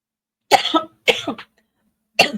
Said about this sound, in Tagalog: Ubo lang ako. Ubo.